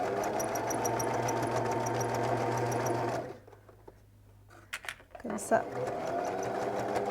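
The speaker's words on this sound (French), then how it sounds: "Je vais finir ma couture là quand même." A sewing machine hems a sweatshirt dress, humming steadily and close for about three seconds before stopping, followed by a brief word and light handling noises.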